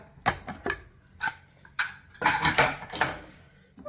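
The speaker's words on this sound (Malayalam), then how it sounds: "കുക്കർ ഇനി ഒന്ന് തുറന്നു നോക്കാം" Metal clanks and clicks from a pressure cooker lid being worked open after cooking chickpeas, followed by a few loud, rough bursts of hissing steam.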